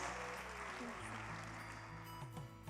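An audience at a convention opening ceremony applauds to welcome a speaker. The clapping is a steady, faint, distant wash under a low hum.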